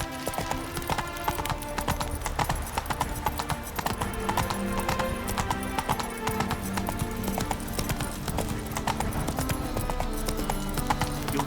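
Rapid hoofbeats of a horse galloping in The Witcher 3 video game, a steady clip-clop rhythm running throughout over a dense bed of game music and ambience, with a brief whinny-like touch.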